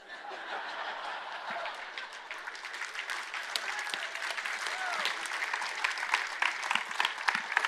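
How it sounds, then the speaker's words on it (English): Seminar audience clapping, a full room of hands building steadily and growing a bit louder toward the end, with scattered chuckles and laughter mixed into the applause. "And y'all wouldn't be clapping if you didn't know it was true."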